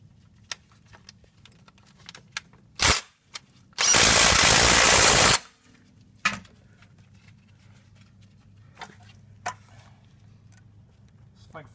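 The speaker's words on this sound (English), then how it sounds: "Get these tightened in with the ratchet wrench snug" A ratchet wrench snugs bolts on the front disc brake of an 8-lug OBS Chevy/GMC K truck: one loud whirring burst of about a second and a half, with a few sharp metallic clanks before and after over a low background hum.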